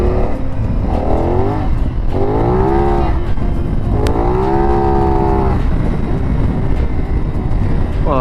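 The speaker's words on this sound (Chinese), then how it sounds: "这个回火声" A CFmoto 450NK motorcycle on a test ride, its engine revving repeatedly through rising and falling sweeps under loud, constant wind rush, with a sharp exhaust backfire pop in the middle.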